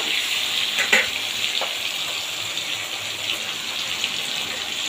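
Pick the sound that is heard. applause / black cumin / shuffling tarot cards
black cumin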